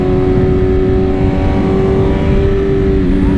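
A BMW M1000RR motorcycle engine while riding, a loud steady drone with a sustained engine tone that dips slightly near the end, continuous and close under heavy wind rush, no voices.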